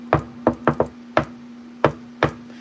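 Knocking on a room door at home: about seven sharp raps in irregular clusters, close and fairly loud, over a steady low electrical hum with no talking.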